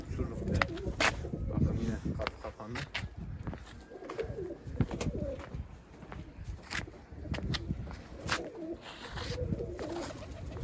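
A pigeon outdoors gives repeated soft, low coos in a loose rhythm, close by, while people talk over it with occasional footsteps and rustling.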